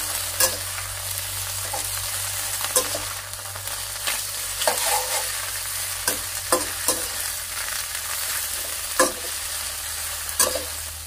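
Kale and crispy pork stir-fry in a hot pan, a steady close sizzle broken by sharp scraping clicks of a utensil tossing the food at irregular intervals.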